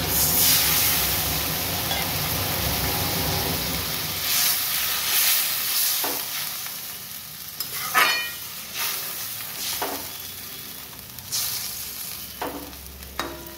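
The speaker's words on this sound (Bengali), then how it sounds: "পেঁপে আলু সেদ্ধ করা জলটা দিয়ে দিচ্ছি।" Water left from boiling papaya and potato is poured into a pan of cooking duck egg curry, giving a steady sizzle and hiss that settles into quieter bubbling with a few sharp stirring clinks, no voices.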